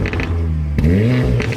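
A Mercedes engine launches with a performance exhaust, giving a deep, throaty growl with rising revs and a sharp jump in pitch partway through, loud and close, with no talk.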